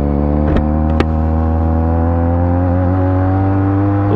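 A Benelli 300TNT motorcycle engine holds a steady loud drone on the highway, a constant harmonic hum with no speech and only brief clicks over it.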